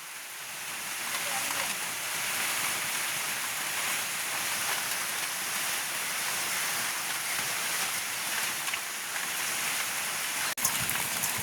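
Rain falls steadily on an outdoor cooking area in a village, making a dense, even hiss of drops throughout, with a sharp knock near the end.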